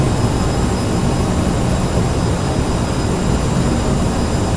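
The engines of a CRJ700 jet airliner on landing approach produce a loud, continuous roar heard from inside, a steady broadband rumble with a faint high whine on top.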